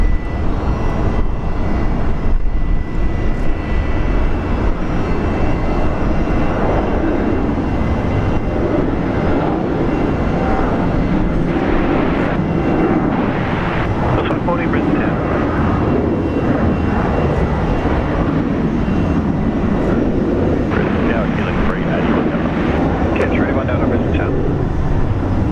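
A Virgin Australia jet departs Brisbane for Melbourne, its engine roar a broad, sustained rumble that holds steady throughout at moderate distance.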